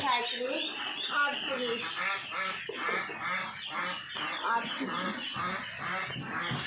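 A dense flock of ducks quacks and honks nonstop at a duck farm, loud and close, with a person talking over the din.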